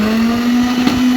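An electric mixer grinder grinding neem leaves runs loud and close with a steady, high motor whine that holds constant throughout.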